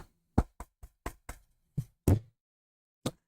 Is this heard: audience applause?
no